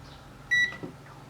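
A multimeter continuity tester beeps once on a C13 power cord, a short clear electronic tone of a fraction of a second, close up, in a quiet room.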